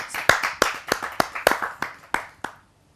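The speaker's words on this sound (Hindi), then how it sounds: "आप सबकी जोरदार ताली।" Scattered, distinct hand claps from a small audience at a Hindi poetry gathering (kavi sammelan), about a dozen sharp, uneven claps over two and a half seconds that trail off into silence.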